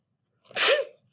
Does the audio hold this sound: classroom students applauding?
no